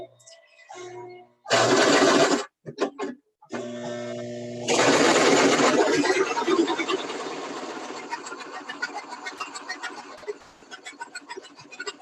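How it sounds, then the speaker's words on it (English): A sewing machine stitches a fabric bowl cover in loud bursts with brief pauses, then runs steadily and a little softer, with short backstitch stops along the seam. "so go ahead and just sew along with the lines that we just made"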